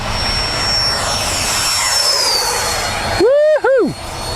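A Freewing F/A-18C Hornet 90mm electric ducted-fan RC jet in Blue Angels livery roars loudly on a low, fast pass, its whine sweeping sharply in pitch as it flashes by close overhead.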